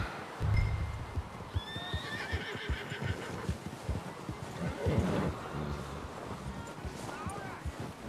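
A horse whinnies loudly just after being hitched, with hoof clip-clops and outdoor rustle around it and a faint voice now and then.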